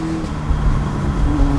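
A liquid-cooled motorcycle, a Yamaha bobber custom build, runs with a steady low engine drone close by in a garage, with no clear start-up burst, just a continuous hum with slight swells.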